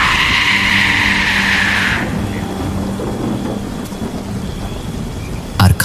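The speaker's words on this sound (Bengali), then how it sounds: "আর খানিকক্ষণ পর পর কালো মেঘের গর্জন।" Heavy rain pours steadily in a cartoon storm at night on a river, with a low rumble of thunder rolling underneath; the downpour is loud and bright at first, then eases into a softer steady patter with a brief knock near the end.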